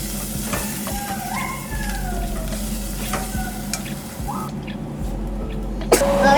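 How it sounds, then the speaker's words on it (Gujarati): Tomatoes sautéing in oil in a pan for a wedding-style potato curry: a continuous close sizzle broken by repeated scraping stir strokes, with a sharper clatter near the end. "હવે ટામેટાને સાતળી લઈએ આપણે. જ્યાં સુધી આમાંથી તેલ છૂટું ના પડે ત્યાં સુધી આપણે એને સાતળીએ."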